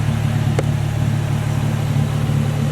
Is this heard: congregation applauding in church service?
no